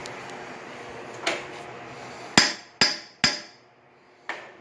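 Several sharp metallic hammer strikes ring out with short bright decays, spaced irregularly: one light tap, then three firm blows, then a softer hit.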